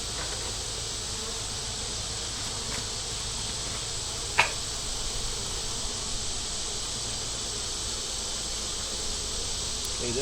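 Agitated honey bees buzz steadily around an open hive during a beekeeping inspection of brood frames, a continuous droning swarm with a faint hiss above it and one brief sharp click midway.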